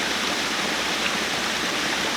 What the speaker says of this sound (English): Look at all these beautiful waterfalls.